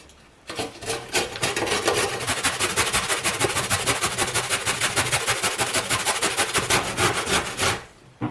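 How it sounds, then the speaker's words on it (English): A vegetable is grated by hand for homemade dog food, with quick, steady rasping strokes repeating close up in an even rhythm for several seconds before stopping. "I'm just going to grate this whole thing and then chuck it in the pot."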